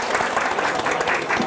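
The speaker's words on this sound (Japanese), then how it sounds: "拍手お願いします" Brief burst of loud, close clapping from seminar attendees at a coaching session, an even patter of many hands.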